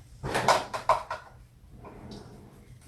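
A desk drawer in a card-making craft space slides open with a quick rattling clatter of a few short knocks, followed by softer rustling, close by and fairly quiet.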